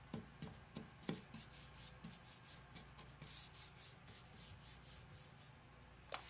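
Annie Sloan dark wax being rubbed onto furniture with a brush or cloth, a soft, quiet scrubbing in repeated back-and-forth strokes with occasional light taps, heard alone.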